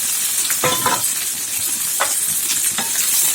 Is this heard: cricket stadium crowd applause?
no